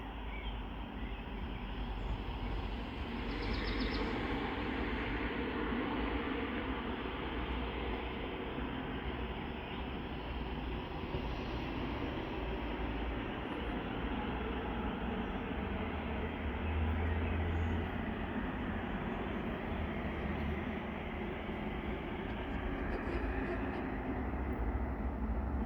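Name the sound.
metro train in Warsaw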